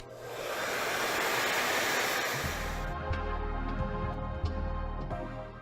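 A hair dryer blasts heat onto long hair during a blow-wave, a steady broadband rush that holds loud and even, then shifts to a lower, humming motor tone partway through, with no talking.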